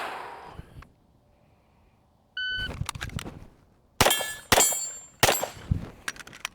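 Pistol shots ringing off a Target USA Swinger steel target on a shooting range: a few sharp cracks, each followed by a bright metallic clang and its ring. They come in an uneven series after a near-silent pause, loud and close.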